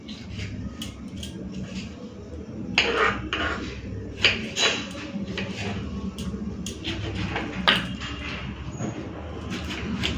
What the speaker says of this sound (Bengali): তো টমেটোগুলোকে ভালো করে ধুয়ে নিয়েছি, চলুন কেটে কুটে একটুখানি রেখে দিই।